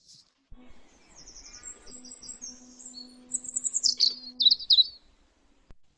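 Birds chirp in a quiet village, with a run of high, quick tweets and trills that grows busier toward the end, over a faint low hum.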